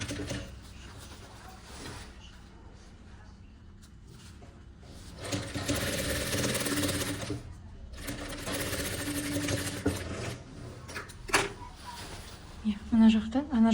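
Sewing machine stitching a lined vest, running in steady bursts with pauses between seams, fairly close and moderately loud, with a voice talking over parts of it.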